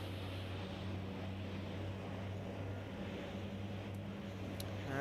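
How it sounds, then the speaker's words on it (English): A DHC-7 propeller airliner climbs out after takeoff in Microsoft Flight Simulator 2020, giving a steady droning engine hum with a low tonal throb, even and continuous throughout, no talk. "Alright, just took off from Greenville, Wisconsin."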